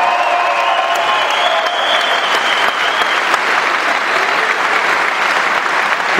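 A boxing hall crowd applauds Firat Arslan ahead of his title fight in Stuttgart. The dense, sustained clapping fills the large room at steady loudness, with a faint murmur of the crowd running beneath it.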